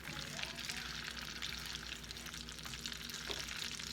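A caramel-like sauce is stirred in a casserole dish for French toast casserole with praline topping, giving a soft, continuous wet sizzling and scraping that stays quiet and steady with no talking.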